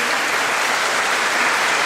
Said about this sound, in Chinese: 那我们再次掌声谢谢林雅学姐